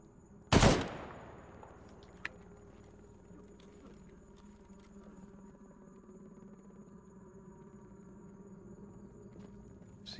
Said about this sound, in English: Those looked like four direct shotgun blasts to me.